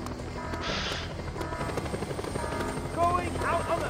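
A helicopter in the video game Just Cause 2 drones with a steady rotor chop beneath constant game noise, explosions and radio-style voices talking over it.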